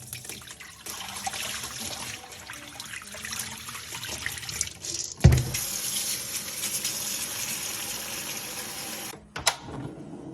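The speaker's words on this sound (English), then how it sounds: "rinse the beans and get the pot ready" Honey beans are rinsed under a running tap, giving a steady close stream of water with splashing, a sudden louder slosh midway and a short pause near the end.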